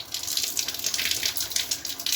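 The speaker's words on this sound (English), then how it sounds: "it's just like you are getting water from the tap, and you can control its flow as well" Reused RO waste water pumped out through a tap, a steady close-up hiss of flowing water running evenly throughout with no voices.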